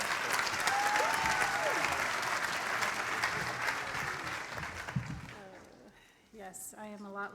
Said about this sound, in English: You can clap, you can clap.